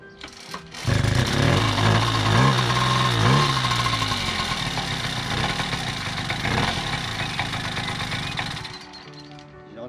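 Italian Garelli Katia two-stroke moped engine idling with its air filter removed, a steady close buzzing putter that runs continuously after a brief start, with slight unevenness in the idle.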